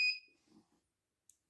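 Alarm on an Arduino circuit with a DS18B20 temperature sensor and TM1637 display, one short high electronic beep at the start followed by faint clicks and a tiny second blip.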